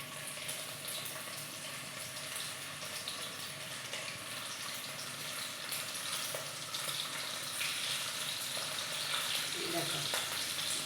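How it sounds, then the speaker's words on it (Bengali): A piece of food fries in hot oil in a wok, a steady dense sizzle that holds evenly throughout and grows slightly louder toward the end, with no talking. "তেল গরম হয়ে গেছে। এবার আমি এই পিসটাকে একটু ভেজে নেব।"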